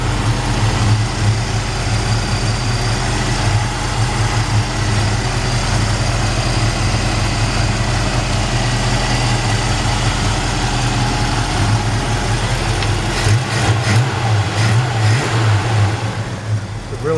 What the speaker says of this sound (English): It's a really great sounding exhaust.